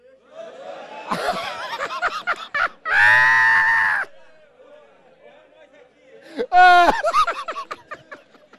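A church congregation shouts out loudly to the boss, with bursts of mixed voices and a sustained group yell, separated by quieter chatter.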